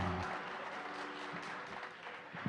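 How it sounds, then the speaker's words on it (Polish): Audience at a festive anniversary show applauding a sponsor, a steady spread of clapping heard fairly faint and distant, with a few louder individual claps near the end. "Duże brawa"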